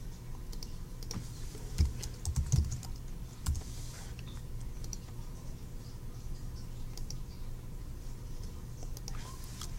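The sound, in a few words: typing on a computer keyboard to retype entries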